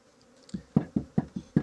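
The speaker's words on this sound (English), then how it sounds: "There's a lot of bees in here," Honey bees in a hive that is being moved into a horizontal hive with an eco-floor, heard close as a series of short, regular low buzzing pulses, about five in quick succession.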